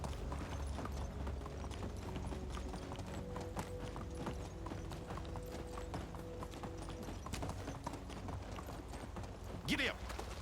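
Horse hooves trot in Medieval Dynasty in a steady clip-clop rhythm, set in a spring countryside, with a voice speaking over the gait and a brief sharper sound near the end.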